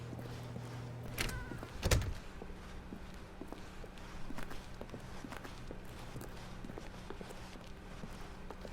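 Footsteps of Stanley climbing toward his boss's office in The Stanley Parable, a quiet run of soft, regular steps over a low room hum, with one louder thump early on.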